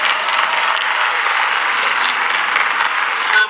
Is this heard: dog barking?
no